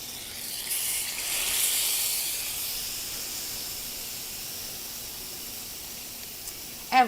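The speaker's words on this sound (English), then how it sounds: "And this time we'll go in with all of our spaghetti squash." Spaghetti squash dropped into a hot pan with ghee sets off a steady hiss that swells briefly near the start and then settles into a soft, even sizzle.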